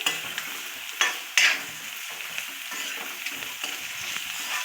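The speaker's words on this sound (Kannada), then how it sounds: "ಬೀನ್ಸು ಕ್ಯಾರೆಟು ಆಲೂಗಡ್ಡೆ ಹಾಕ್ತಾಯಿದ್ದೀನಿ ಹಾಕಿ ಹುರ್ಕೊಳ್ಬೇಕು" Beans, carrots and potatoes frying in a pan for an avarekalu rava masala uppittu, with a soft, steady sizzle and two sharp clatters of the spoon early on, then gentle stirring, close by and with no voices.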